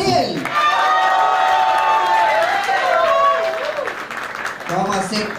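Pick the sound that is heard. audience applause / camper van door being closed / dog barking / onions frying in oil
audience applause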